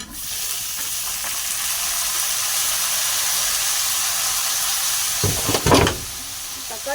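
Browned onions and tomatoes frying in a pan for a garlic curry, giving a loud, steady sizzle throughout, with a few brief stirring scrapes near the end.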